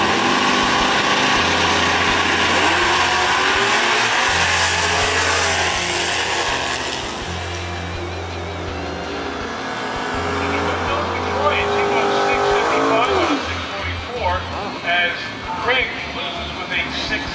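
Drag racing at South Mountain Raceway, with a Mod Pro Mustang on track as an announcer talks over the loud engine roar, which rises and falls before tires squeal near the end.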